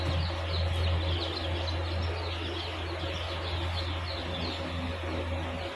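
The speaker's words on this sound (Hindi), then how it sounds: "ये पैट्रिज क्वेल्स के बच्चे हैं" Partridge quail chicks chirp in a dense, continuous chorus of small high peeps over a steady low mechanical hum, fairly close and moderately loud.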